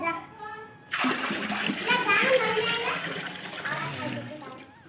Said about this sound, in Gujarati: હજુ પાણી ભરીએ છીએ ડોલે ડોલે ભરીએ છીએ